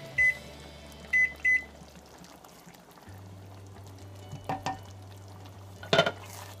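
Mushroom rice being stirred in a thick vegetable broth, giving soft scraping bursts near the start and more around the middle, over a steady low hum, with a couple of brief beeps.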